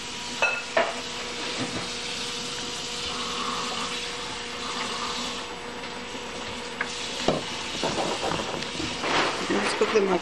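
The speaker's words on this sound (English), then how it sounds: "We're gonna put our crayfish into the butter now." Crayfish sizzle steadily in hot melted butter in a pan, a soft continuous frying hiss with occasional stirring clinks, while a person talks over it.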